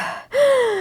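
A voice imitates heavy, distressed breathing from a nightmare: a breathy exhale, a brief pause, then a strained, voiced inhaling gasp that holds and slowly falls, close and fairly loud.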